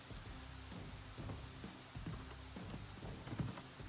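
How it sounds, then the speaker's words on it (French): Steady rain falls in the video game Shoppe Keep 2 as a quiet, even hiss with scattered low thumps and rumbles mixed in. No one speaks. "Oh, il pleut."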